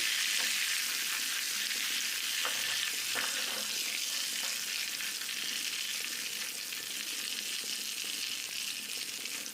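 Raw banana slices frying in coconut oil as turmeric-salt water is splashed into the pan, a loud, steady hissing sizzle with faint bubbling and occasional soft stirring clinks, no voices.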